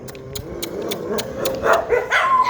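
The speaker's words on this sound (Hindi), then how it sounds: "आपको ये डॉग्स को देख करके थोड़ा सा डिस्टर्बेंस हो रहा होगा, लेकिन इन सबको मैंने पाला हुआ है" Several dogs bark repeatedly in short, loud, overlapping bursts with some yips, close by and continuing without talk.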